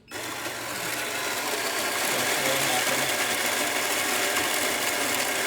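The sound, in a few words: Kanen Monza espresso machine pulling a shot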